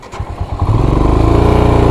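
A motorcycle engine on a mountain ride, first sputtering and catching, then settling into a loud, close, steady chugging idle-to-low-rev rhythm as the bike is moved forward.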